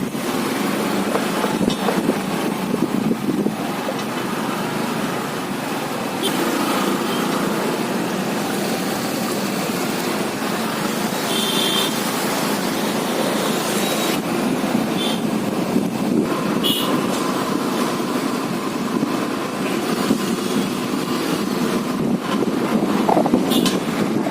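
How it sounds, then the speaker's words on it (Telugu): Large engine pumps drain floodwater in Vijayawada, droning steadily and loudly throughout, a continuous rumbling roar with wind buffeting the microphone. "పెద్ద పెద్ద ఇంజన్లు పెట్టి కవర్ చేస్తున్నారు మొత్తం తోడేస్తున్నారు వాటర్"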